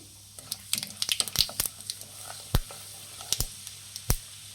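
Chana dal and cumin seeds fry in hot oil for upma, giving off a soft sizzle broken by scattered sharp pops and crackles at close range, with no voices.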